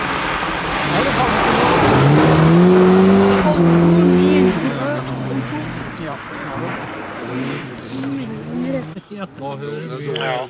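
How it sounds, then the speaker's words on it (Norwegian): A rally car at a sprint rally in Flesberg, Norway, roars closer, revving hard with rising pitch, then passes and fades, with people talking nearby. "Her kommer bilen."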